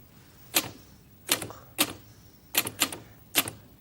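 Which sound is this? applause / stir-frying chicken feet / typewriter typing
typewriter typing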